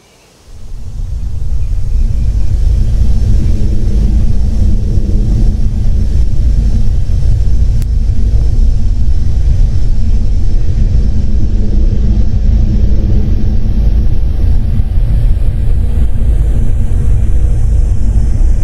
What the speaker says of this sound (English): The Airbus A350-900 with the Rolls-Royce Trent XWB